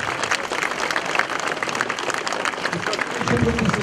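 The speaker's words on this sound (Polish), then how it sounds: "Klaskamy." Applause from an audience gathered for a summer folk custom event, dense steady clapping throughout, fairly close, with voices mixed in and the clapping swelling slightly toward the end.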